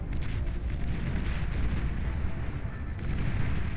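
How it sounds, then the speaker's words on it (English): Fusion reactor blowing up in the strategy game Beyond All Reason, heard as a dense, continuous rumble of deep booms and crackling blasts that holds steady and loud throughout, with no talking. "those Hounds find a nice, juicy fusion reactor. Ripe for the exploding. Boom it goes."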